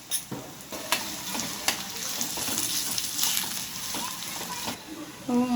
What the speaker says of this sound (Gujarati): મેં કાપેલી એક મોટી ડુંગળી હવે હું આમાં નાખીશ વાટેલા આદુ અને લસણ બે ચમચી